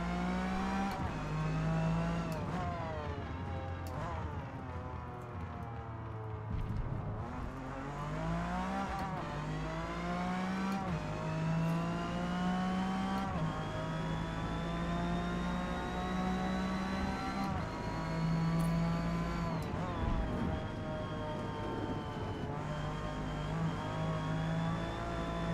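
Race car engine in the Forza Motorsport video game revving hard through repeated gear changes, rising pitch climbing then dropping at each shift, loud and continuous with occasional tire squeal.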